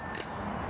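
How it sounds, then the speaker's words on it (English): A bell on a Schwinn beach cruiser gives a single bright, high ring that fades quickly, heard close with no talk. "They have an annoying bell"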